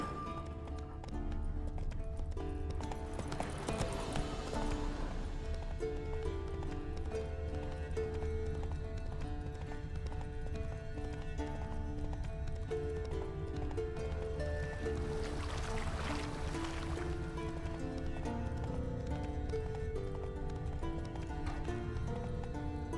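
Horse hooves clip-clop at a steady gallop in the video game The Witcher 3, rhythmic and continuous over a background music score, with a brief whinny.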